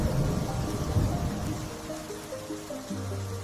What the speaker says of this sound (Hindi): कुछ दिनों बाद बादल लौट आए और जंगल में खूब बारिश हुई।